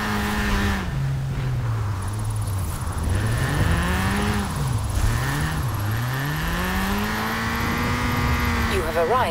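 A drifting car's engine in Forza Horizon 4 revs loudly and continuously, its pitch swooping up and down as the throttle is worked through slides, with faint tire squeal.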